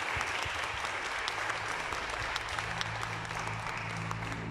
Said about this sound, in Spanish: Le damos un fuerte aplauso.